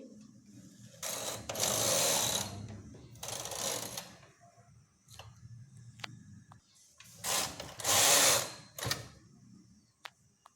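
Hand-operated knitting machine knitting rows for a baby romper, its carriage sliding across the needle bed in two long, loud swishing passes with brief clicks and quieter handling noises in between.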